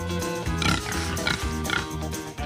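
A mini pig grunts up close, with several short snuffling grunts in quick succession and a low background hum.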